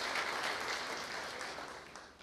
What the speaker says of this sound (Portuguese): Vamos aplaudir essa palavra, palavra de Jesus para nossas famílias